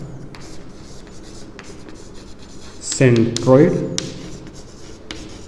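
A pen scratches and rubs across paper while a math statement about a centroid is written out in a coordinate geometry lesson, the soft writing sounds running steadily beneath a speaking voice.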